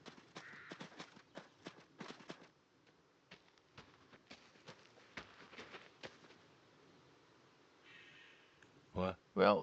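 Video game horse hooves clip-clop in quick bursts of sharp, fairly faint hits, pausing and resuming, with a louder burst of other game sounds near the end.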